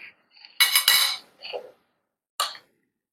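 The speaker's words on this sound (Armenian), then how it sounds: "Ափսեն դանենք մի կողմի վրա" A plate set aside in a home kitchen while a chicken dish cooks, giving a few sharp clinks and clatters of crockery in quick bursts, close and fairly loud, followed by one last short clink.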